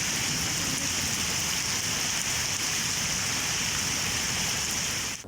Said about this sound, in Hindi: जहलम में मौसलाधार बारिश से सड़कों पर पानी जमा हो गया।